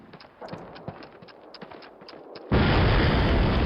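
Faint clicks and scattered taps over a low background, then a loud, sudden explosion in the video game Call of Duty that roars on broad and sustained to the end.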